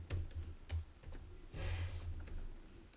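Keys tapping on a computer keyboard while a password is entered, a quick close burst of clicks, a pause, then a steadier run of keystrokes.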